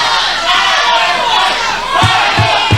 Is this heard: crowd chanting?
yes